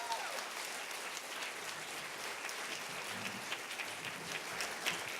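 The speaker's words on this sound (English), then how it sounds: "So please give him a round of applause." Applause at the 2014 PEN Literary Awards Ceremony greeting host Luis Jaramillo, a soft, steady wash of many hands clapping from a seated audience, heard from a distance and continuing evenly throughout.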